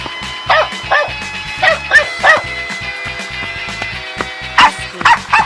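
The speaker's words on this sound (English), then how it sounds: "dog" A dog barks and yips in a quick series of loud, close bursts, with short pauses between groups over a steady background.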